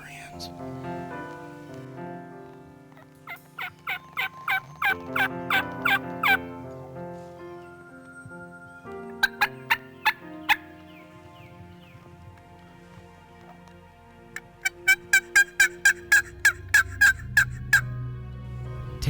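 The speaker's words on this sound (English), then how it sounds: "Another turkey just kind of gobbled back behind us" A wild turkey gobbles in the woods during a hunt, a series of rapid rattling gobbles in several bursts, loud and close, alongside other bird calls and quiet whispering.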